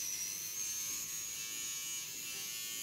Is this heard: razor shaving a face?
yes